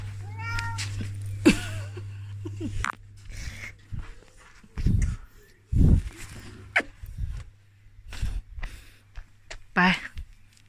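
A pet cat kept indoors and out meows several times outdoors in a garden at night, close and clear, with brief high calls spread across the clip between quieter rustling and a few soft voices.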